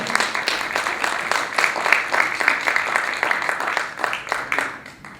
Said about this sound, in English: Y'all give her a nice round of applause